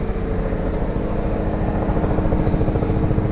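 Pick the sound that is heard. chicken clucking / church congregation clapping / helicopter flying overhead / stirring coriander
helicopter flying overhead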